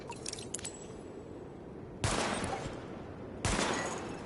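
Gunfire during a weapon test in the video game The Division, with two loud sharp bursts about a second and a half apart after a quieter stretch of faint clicks and ambient hum, heard alone without talk.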